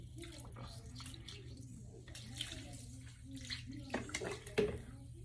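Air bubbling out of a leaking tire near the wheel weight, a faint soft burbling and fizzing heard close up over a steady low hum.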